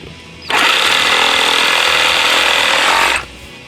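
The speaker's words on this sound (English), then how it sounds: "holding on to the antlers as she was sawing" A power saw cuts through the antler of a farmed breeder buck deer, a loud, steady, close grinding whine starting abruptly and running about three seconds before stopping.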